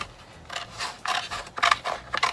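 Scissors snip and slice in quick, close, irregular strokes, several crisp cuts with short pauses between; the blades are dulled from once being used on metal.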